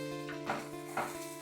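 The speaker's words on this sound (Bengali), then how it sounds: "দিয়ে দেবো হলুদের গুঁড়ো, লঙ্কার গুঁড়ো, ভালোভাবে কষিয়ে নেব।" Ground spice paste with turmeric and chili powder sizzling in a pan, a soft continuous hiss with two brief stirring scrapes, no voices.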